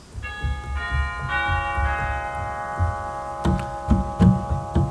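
Bell-like chime tones from the chimes stop of a chapel pipe organ ring out, several struck notes sustaining and overlapping, followed by a few soft thumps.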